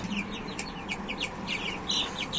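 A rooster clucks in quick, repeated short calls over a low background hum, the notes coming in an uneven series.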